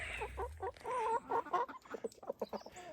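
Chickens cluck close by in quick, uneven bursts, with a low rumble at the start and no one speaking.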